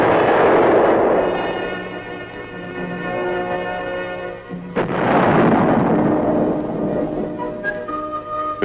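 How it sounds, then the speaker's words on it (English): A large tank gun at an Aberdeen proving ground fires twice, each a huge booming muzzle blast with a long rumbling decay, the second following about four seconds after the first, loud and close, with no voices. "With a gun as large as this, muzzle blast is a potential source of damage and a hazard to the crew."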